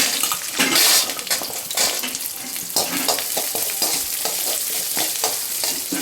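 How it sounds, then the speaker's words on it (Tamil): Garlic and onion frying in a pan, a dense, steady close-up sizzle with a spoon stirring and scraping against the metal throughout, fairly loud. "கொஞ்சம் லைட்டாக பொன் நிறமாக வறுத்துக்கணும் பூண்டு அடுத்து வெங்காயம்"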